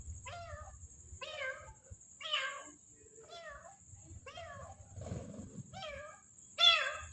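Cat meowing repeatedly at a cemetery at night, about eight drawn-out meows spaced a second or so apart, near and fairly clear over a faint low hum and a bit of rustling.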